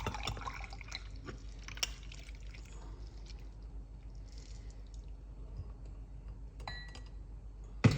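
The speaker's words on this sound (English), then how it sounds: "you just want to pour it off like this." Mint and ginger drink poured off from a container, a steady soft liquid wash running the whole time at low level, with a few faint clinks and a small knock at the end.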